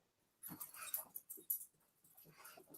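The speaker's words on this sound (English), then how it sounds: "Is that a dog? Yeah. Is that a puppy?" A puppy whimpers and whines in a short series of soft, breathy yelps, close by and faint, with quiet pauses between the cries.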